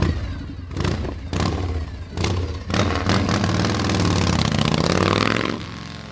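A 1985 Harley-Davidson FXSB Super Glide with its 1340 Evolution engine runs loud and close, first with several rough bursts of revving, then a sustained throaty roar that holds steady.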